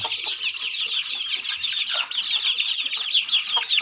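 Chickens on a fighting-cock farm, a Thai game-breed hen with her young chicks, cheeping and clucking in a steady close chorus without any talk.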